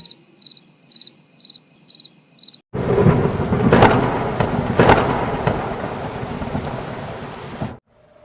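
Crickets chirp in short regular pulses, then heavy rain from a thunderstorm abruptly takes over, a dense close roar with deep thunder rumbles swelling through it before cutting off.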